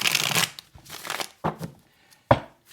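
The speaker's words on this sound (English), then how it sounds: "let's pull some cards on this" Tarot cards shuffled in quick papery riffles, then a few separate card pulls and slaps landing on a surface, close and fairly quiet with pauses between bursts.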